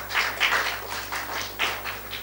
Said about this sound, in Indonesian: Tepuk tangan dong saudara.